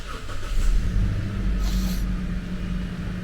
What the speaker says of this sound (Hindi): गाड़ी को हम कर लेते हैं स्टार्ट